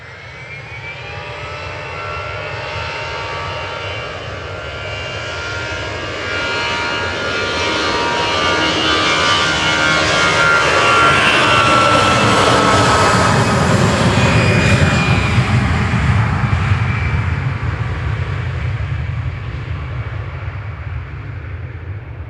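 Jet engines of easyJet aircraft G-EZUP, flight 2061 to Corfu, at Manchester Airport: a broad, steady roar that builds over several seconds, peaks loud and close, then eases slightly as it passes.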